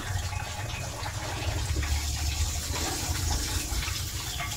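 Lambanog liquor runs in a steady stream from a still, a continuous gushing, trickling pour with no break. It sits close and fairly loud over a low rumbling background.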